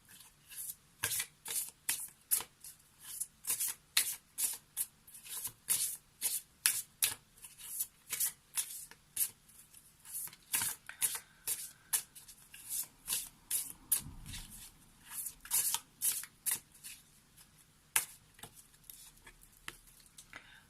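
Oracle cards are shuffled by hand for a reading, producing a long run of quick, crisp riffling bursts in a fairly regular rhythm, close and fairly quiet, with no voices.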